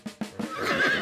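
A horse neighs in a short cartoon scene, opening with a few quick breathy snorts and rising into a bright, wavering whinny that sounds close and clear.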